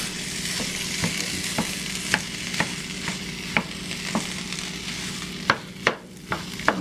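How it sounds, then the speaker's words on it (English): Spam fried rice with onions stirred in a pan, steady sizzling under a regular rhythm of spatula scrapes about every half second, close and clear with no talk. "Start stirring that up."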